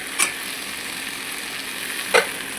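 Boiled potatoes coated in spices sizzle in a pan. Two distinct scrapes of a spatula, about two seconds apart, stand out above the constant frying hiss.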